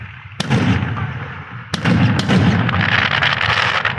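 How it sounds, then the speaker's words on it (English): Fireworks go off in sharp, loud bursts, a few distinct cracks followed by a dense rumbling crackle of explosions continuing without talk. "So many explosions."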